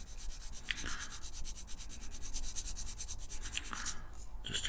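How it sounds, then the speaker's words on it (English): Steady, gritty rubbing scrape of light sanding on a small hard part of a Corgi 256 VW die-cast model car, continuous strokes close by with no talking. "All I want is a light sanding of this"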